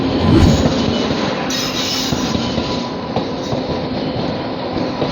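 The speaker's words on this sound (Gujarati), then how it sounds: "ટ્રેન આવી ગઈ છે." A train pulling into a railway station, loud and close, with a steady heavy rumble of rolling wagons, rhythmic clickety-clack from the wheels and faint squealing, continuous throughout with no talking.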